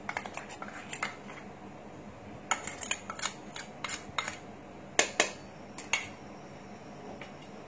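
Adhirasam flour mix with crushed cardamom and sugar is stirred in a vessel, giving a steady run of scraping strokes and sharp spoon clinks against the sides, close and fairly quiet, with no voices.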